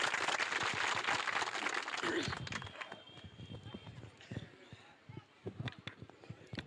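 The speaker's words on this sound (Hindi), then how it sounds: "एक बार जोरदार तालियां से स्वागत।" A crowd at a political rally for a by-election claps loudly at first, then the applause thins into scattered claps with footsteps and background voices.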